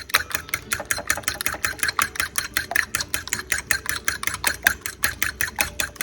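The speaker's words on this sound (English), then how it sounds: "And whisk it now." Eggs with black pepper are whisked briskly in a bowl, a fast, even run of close, bright clinking strokes that repeats steadily with no talk.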